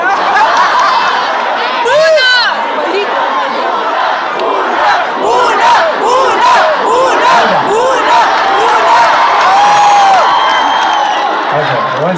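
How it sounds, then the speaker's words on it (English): A concert crowd shouts and cheers loudly all at once, a dense wall of overlapping voices and yells close by, with a louder cry standing out now and then. "Everybody's shouting at once."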